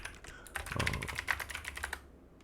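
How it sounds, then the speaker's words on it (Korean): Someone types on a computer keyboard, a quick run of crisp, close key clicks in an uneven rhythm, loud and alone for about two seconds before trailing off. "이제 키보드가 조금 시끄러울 수 있는데"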